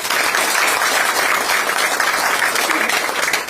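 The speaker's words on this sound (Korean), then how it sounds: "박수 한번 드리시죠." Dense, loud audience applause at a Democratic Party supreme council field meeting in Yeonggwang, South Korea, a continuous wash of clapping hands filling the whole stretch without pause.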